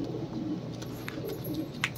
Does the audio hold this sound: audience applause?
no